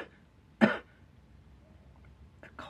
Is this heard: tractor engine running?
no